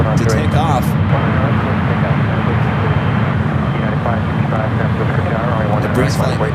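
Heavy airliners moving at San Francisco International Airport, a loud, steady jet engine roar that fills the whole stretch, with a voice speaking over it.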